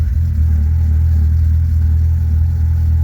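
A Lada Kalina converted to rear-wheel drive runs its engine, producing a loud, close, steady low drone that holds nearly constant, with no clear rise or fall.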